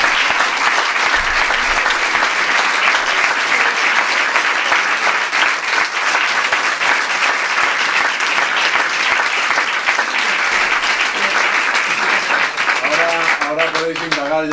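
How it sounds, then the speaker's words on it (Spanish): A large audience gives sustained, loud applause, a steady wash of many clapping hands that continues unbroken for the whole stretch, with faint voices surfacing near the end. "yo pediría un aplauso"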